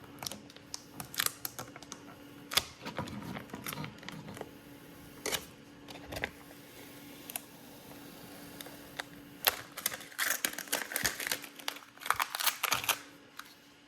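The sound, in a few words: peeling transfer tape off a VW badge overlay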